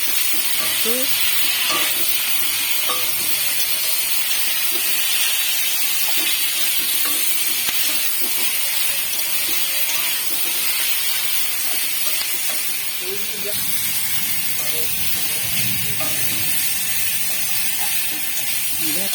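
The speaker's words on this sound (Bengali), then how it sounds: "শাকটা দিয়ে ভালো ভাজা হচ্ছে। এবার দেখো কি সুন্দর ভাজা হচ্ছে।" Leafy greens frying in a pan with a continuous close sizzle and hiss, stirred now and then with soft scraping, while a person talks throughout.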